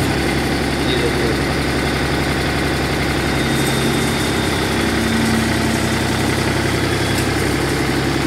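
A Mahindra 265 tractor converted into a mini JCB loader runs its engine steadily, a loud close diesel drone with constant vibration throughout.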